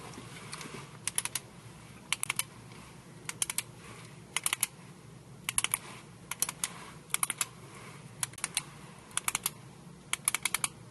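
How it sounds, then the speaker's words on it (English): A pen is clicked over and over in short paired bursts, sharp close clicks repeating at a steady, slightly irregular rhythm against a quiet room hum, with no talking. "You're clicking that pen and it's obnoxious."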